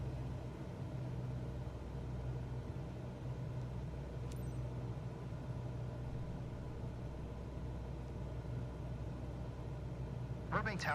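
A Cessna engine throttled back to about 1800 RPM in Microsoft Flight Simulator 2024, giving a steady, even drone with a low hum that holds throughout, with brief faint clicks and a short radio-like burst near the end.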